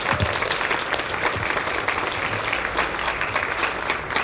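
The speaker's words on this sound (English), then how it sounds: "warm round of applause for Jason" An audience at a convention in Baltimore applauds warmly, a steady dense patter of many hands clapping throughout with no break.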